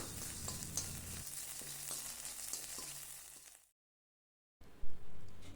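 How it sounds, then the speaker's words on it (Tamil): Salt and chillies roasting in oil in a kadai, a soft steady sizzle with occasional stirring scrapes, followed by a second of silence and then renewed frying hiss with a couple of louder knocks. "உப்பையும் அதே கடாயிலே போட்டு வறுத்து எடுத்துக்கிடலாம்."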